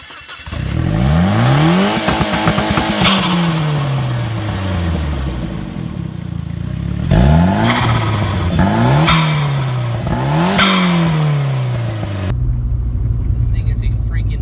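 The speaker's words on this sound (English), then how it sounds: "this bad boy has been fitted with a custom straight pipe exhaust with a rally style turn down" A Saab 9-3 Turbo with a straight-pipe exhaust and rally-style turn-down revs hard several times, each loud rising roar climbing in pitch and dropping back, raspy and close, with brief pauses between pulls.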